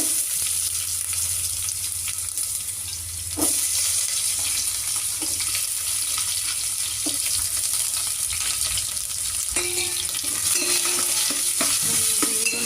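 Garlic and onion frying in oil for a vegetable sambar, with a steady sizzle and occasional stirring scrapes in the pan, running continuously and growing slightly louder partway through.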